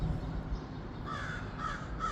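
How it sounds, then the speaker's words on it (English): Crows caw outdoors, two birds giving several harsh, repeated calls at moderate distance over a steady low rumble of background noise, with no talking. "the crows do their thing. There's two of them now"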